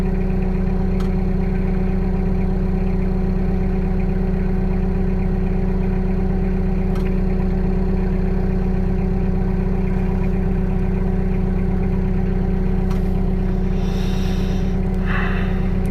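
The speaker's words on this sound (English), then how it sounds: "Sprayer's gonna run out of fuel sitting here idling," A Spra-Coupe 3430 crop sprayer's engine idles steadily with a constant low hum throughout, close by, with a brief faint clatter near the end.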